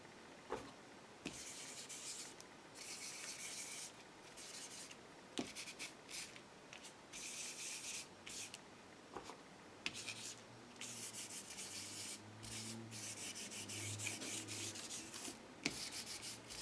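Green texture paste on a craft tag being sanded by hand, quiet rhythmic rubbing strokes in short repeated bursts with brief pauses between them.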